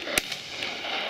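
A single sharp shotgun report from a pheasant and partridge shoot, one loud crack early on, followed by a faint second pop and an open outdoor ambience.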